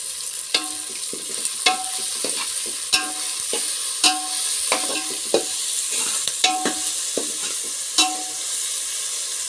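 Ingredients frying with sugar in a pan, a constant bright sizzle punctuated by regular sharp scrapes and taps of a spoon against the pan every second or so, close up and with no speech.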